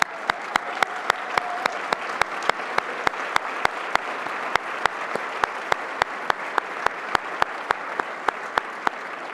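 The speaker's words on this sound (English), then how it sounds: "Why don't you stand up and we can give you a round of applause to say thank you for your service" A crowd of business leaders applauds at a public event, a dense, steady wash of clapping punctuated by a regular series of sharp, loud clicks throughout.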